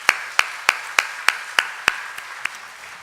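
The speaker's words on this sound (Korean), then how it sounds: "우리 축복의 박수 하겠습니다." Congregation in a church clapping in unison, about nine evenly spaced sharp claps over three seconds, loud and close, fading slightly toward the end.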